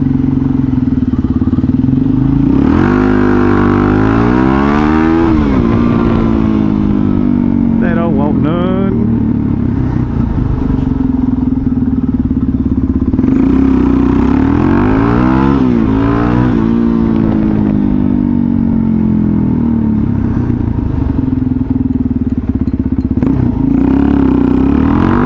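Motorcycles rev and race nearby in a steady, loud engine drone, rising and falling in pitch through several accelerations, with voices talking over it.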